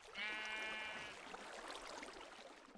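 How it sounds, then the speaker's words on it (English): A single sheep from the Minecraft video game gives one clear, wavering bleat lasting about a second, followed by faint background noise. "And there's a sheep"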